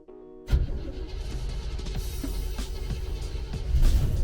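1971 Chevy El Camino with a carburetor starting after sitting in freezing 25-degree weather: a sudden catch into a rough, loud idle close by, then a swell of revving toward the end, with no talk.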